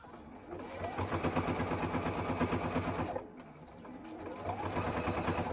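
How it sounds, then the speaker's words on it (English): A sewing machine stitches down a zipper onto fabric, a fast even mechanical chatter at close range that pauses briefly midway and then starts up again. "Flatten it out nice and tight, and then sew it down."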